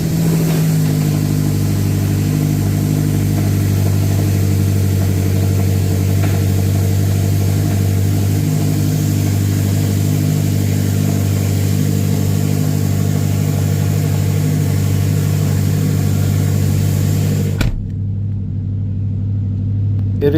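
BMW E70 X5M engine after strut mount and spring work, running loud and close with a deep steady rumble and low idle hum for about eighteen seconds before cutting away abruptly.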